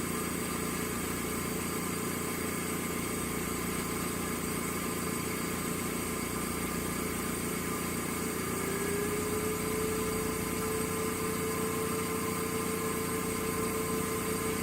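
A Laurell WS 400B 6NPP LITE spin coater runs with a steady mechanical hum and faint whine, constant and close throughout with no talk.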